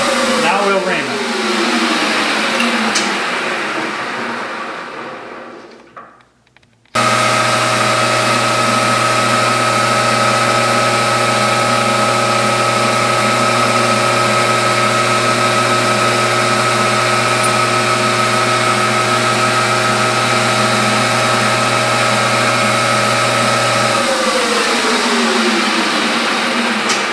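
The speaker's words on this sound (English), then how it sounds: "Now we'll ream it." A machine tool reams a part for a spool valve engine, with a loud steady drone of the running machine that drops briefly to near silence, then resumes as a continuous tonal hum for about seventeen seconds before winding down.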